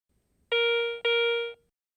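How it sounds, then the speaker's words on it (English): A Garrett ACE 350 metal detector sounds its bell tone for a large silver coin: two loud, ringing chimes about half a second each, back to back and alone, with a sustained ringing resonance. "Non-ferrous targets with high conductivity, such as larger silver coins, produce a bell tone signal"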